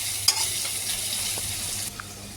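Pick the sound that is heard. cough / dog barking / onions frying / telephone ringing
onions frying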